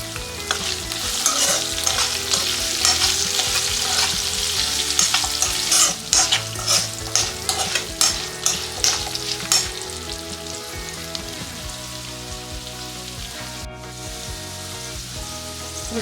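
A spoon stirs amla (Indian gooseberry) chutney with turmeric in a hot pan, giving steady close sizzling with rhythmic scraping strokes that ease off toward the end.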